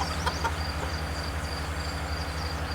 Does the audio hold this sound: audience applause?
no